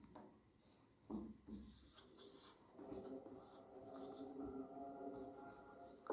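Chalk or marker writing on a classroom board during a Class 10 real numbers maths lesson, a run of scratchy strokes with scattered taps, close and steady, while a teacher talks over it.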